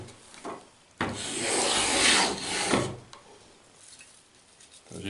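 A sharp hand tool shaves thin ribbons off a wooden arrow shaft in one long rasping stroke lasting about two seconds, preceded and followed by shorter scraping rubs, close and fairly loud.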